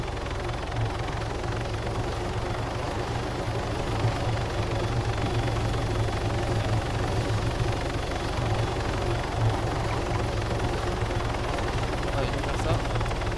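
Helicopter in the video game Altis Life, a continuous low rotor and engine drone holding steady and fairly loud throughout without letup.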